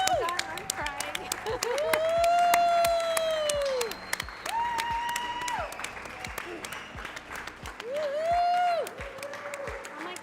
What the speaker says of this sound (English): Everyone's cheering right now.